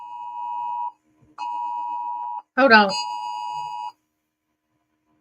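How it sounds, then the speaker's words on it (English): A phone emergency alert for a tornado warning sounds loud and close as steady, sustained electronic tones, broken by a short pause, with a voice speaking briefly over it before it stops. "We got a tornado warning."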